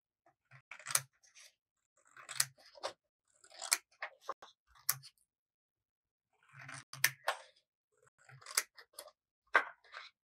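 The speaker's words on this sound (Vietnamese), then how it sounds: "bây giờ mình sẽ dùng cái tờ giấy màu đỏ này, bây giờ mình sẽ cắt ra ba cái sợi giấy nhé." Scissors snip through sheets of red paper to make three thin strips for a handmade round clock craft, giving short crisp cuts in small clusters with pauses between them, close and fairly quiet with no talking.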